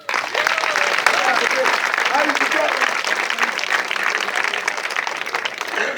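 A church congregation bursts into sustained, dense applause that fills the room for several seconds, with voices calling out amid the clapping.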